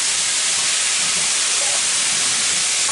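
Steam hisses loudly and continuously from orange chicken chow mein cooking in a pan, a dense, even sizzle with no talk over it.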